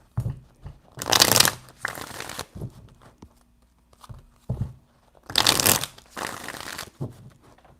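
Tarot cards are shuffled close up in two bursts of riffling, each a loud papery flutter lasting about a second followed by softer taps and handling sounds, with quiet gaps between.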